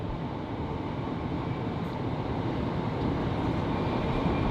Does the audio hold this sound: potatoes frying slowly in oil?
no